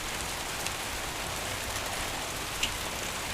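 Steady rain falling outdoors, a constant even hiss of drops on surfaces with no voices, one or two slightly louder drop taps standing out.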